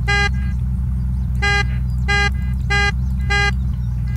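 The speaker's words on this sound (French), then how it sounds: "Je klaxonne." A car horn in the game Unturned honks five times in separate blasts, loud and close over a steady low engine rumble.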